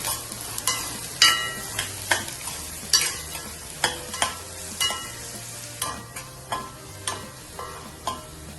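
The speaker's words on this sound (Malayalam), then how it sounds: "3 പച്ചമുളക് അരിഞ്ഞത് ചേർത്ത് നന്നായി ഇളക്കി കൊടുക്കാം. ഒരു സബോള അരിഞ്ഞതും ചേർത്ത് നന്നായി ഇളക്കി കൊടുക്കണം." Chopped onion, garlic and green chilies are stir-fried in a pan, with a continuous sizzle and about a dozen sharp, rhythmic stirring scrapes at a regular pace.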